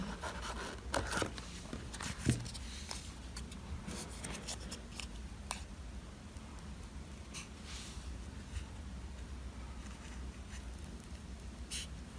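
Scissors cut a flower shape out of paper in a preschool art activity, steady soft snipping and rustling close by that continues throughout, with a couple of slightly louder cuts early on.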